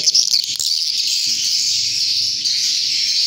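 Dense high-pitched swiftlet lure calls repeat continuously from a loudspeaker, with a faint low murmur underneath.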